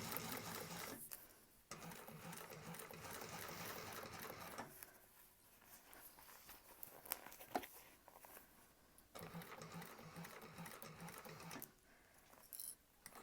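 A sewing machine stitches around bag piping in long steady runs, whirring close and loud, stopping briefly a few times between bursts of stitching.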